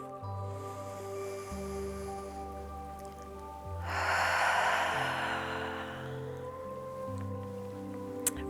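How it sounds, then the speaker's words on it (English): A single deep cleansing breath in a gentle yoga studio class, a long, soft, airy exhale rising in the middle of the clip over quiet, sustained background music. "And then one more deep cleansing breath."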